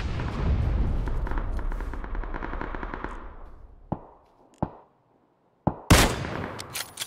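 Gunfire in an online shooter game: a dense rapid burst of shots for several seconds, then a few sharp single cracks spaced apart after a short pause, loud and close with no voices.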